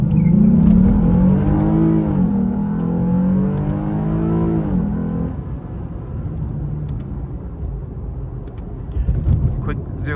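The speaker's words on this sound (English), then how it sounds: "I'll launch it at like 1500 RPMs." A 2006 Lexus IS350 launches from about 1500 RPM, its engine note climbing loud and close through rising revs, then easing off to a lower, steadier drone with a brief swell near the end.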